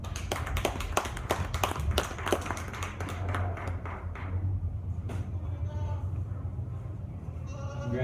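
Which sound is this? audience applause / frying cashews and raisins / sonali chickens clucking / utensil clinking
audience applause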